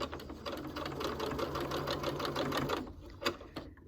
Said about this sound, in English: And we're going to stitch it down.